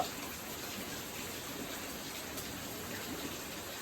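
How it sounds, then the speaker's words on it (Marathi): Heavy rain falls steadily in a village, a dense constant hiss of drops on surfaces, fairly close and even, with no voices. "पाऊस लय आहे"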